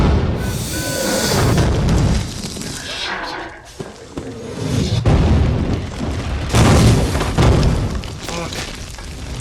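Artillery shelling in a World War II combat scene, with heavy, loud booms and blasts arriving in waves over a constant roar of battle, near and overwhelming throughout.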